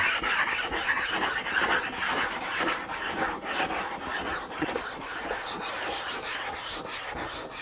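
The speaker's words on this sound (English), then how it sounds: "When we grind like this, and there's rough grinding to generate a curve" Rough grinding of a glass telescope mirror against a glass tool makes a continuous gritty rasping scrape in repeated strokes, steady and close.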